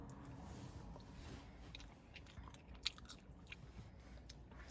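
Someone bites into small, chunky, skin-on fish-and-chip-shop chips, giving a faint, close crunch with one sharper bite standing out over quiet background noise.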